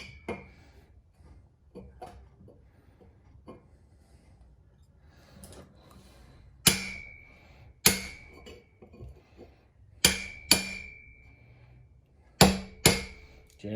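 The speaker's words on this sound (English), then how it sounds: "Set it on the edge of the workbench so I can hammer it around through" Sharp hammer strikes on a small Briggs and Stratton 13 horsepower engine part resting on a workbench edge: a few soft taps early, then six loud ringing metallic blows in pairs, each with a clear tonal ring-off, in a quiet room.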